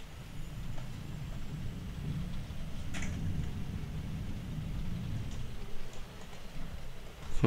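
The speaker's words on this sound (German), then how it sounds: "Es regnet anscheinend, aber wie kann es hier regnen?" Rain in the Alien: Isolation video game, aboard Sevastopol station: a low, steady rumble and soft patter of falling water, with a few faint clicks and ticks. The sound stays quiet and continuous, with no voices.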